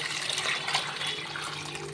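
Tamarind-spice water mixture being poured into a sautéed fish curry base in a pan, a steady close splashing pour lasting a couple of seconds, no talk.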